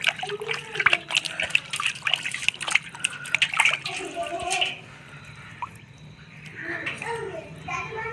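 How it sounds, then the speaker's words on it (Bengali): Pieces of fish are washed by hand in water, giving splashing, dripping and sloshing sounds, close up, while someone talks over the first half. "বন্ধুরা ভালো মাছ তো ভালো করে ধুচ্ছি"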